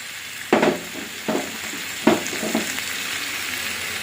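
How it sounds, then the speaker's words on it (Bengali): Shrimp sizzles in hot oil with fried pointed gourd and potato pieces, a continuous frying hiss broken by a few louder stirring bursts, close and with no talking. "এবারে ভালো করে একটু কষে নেব এবারে ভেজে রাখা পটল আলুটা দিয়ে দেবো"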